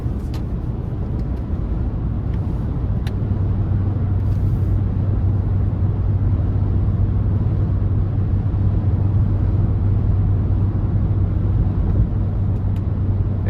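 A 2019 Lexus RX350L with a 3.5 V6 and 8-speed cruises on the interstate, heard from inside as a steady low engine drone blended with road rumble and a faint constant tone, uninterrupted throughout.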